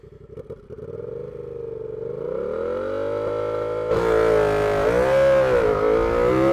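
A turbocharged Yamaha MT-07 motorcycle accelerating hard with wheel spin, the engine note rising steadily in pitch then jumping to a louder, rougher roar partway through, heard close and alone.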